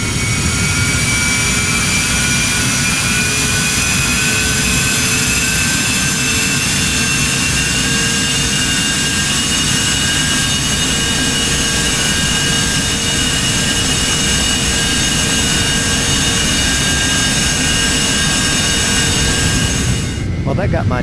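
Embraer Phenom 300 twin jet engines in a steady climb in a flight simulator game, a continuous loud turbine roar with a high whine, sustained and unchanging before cutting off abruptly at the end.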